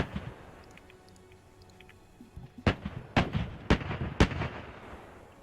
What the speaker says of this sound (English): Hearing some more Crusader shots.